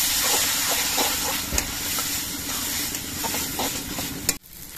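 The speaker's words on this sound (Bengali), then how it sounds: "এবার চালটা দিয়ে কিছুক্ষণ কষিয়ে নিতে হবে।" Rice being stir-fried in a pan, a loud continuous sizzling hiss with faint scraping stirs, close up, cutting off sharply near the end.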